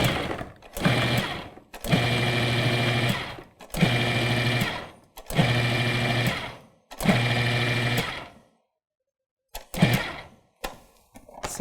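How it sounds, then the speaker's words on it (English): A large food processor chops a single onion in four or five loud pulsed bursts, each a couple of seconds long with a steady motor whine and rattling blade, separated by brief pauses, followed by quiet and a few short clunks. "So I'm just going to throw our onion in."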